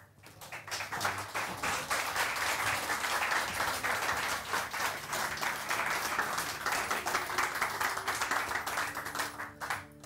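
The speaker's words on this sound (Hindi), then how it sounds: "Put your hands together for Ishaq." A studio audience at a live morning TV show bursts into loud, dense applause for a guest, steady clapping filling the room for about ten seconds.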